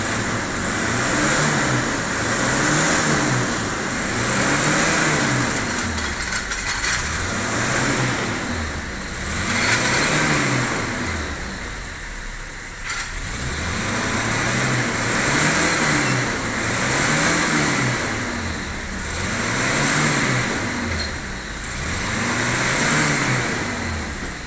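Petrol engine of a Mitsubishi Kuda running rough and misfiring, a close, loud, uneven idle that swells and dips in a slow regular rhythm throughout, with no talking.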